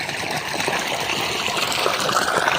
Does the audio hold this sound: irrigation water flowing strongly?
yes